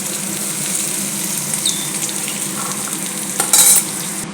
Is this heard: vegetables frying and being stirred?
yes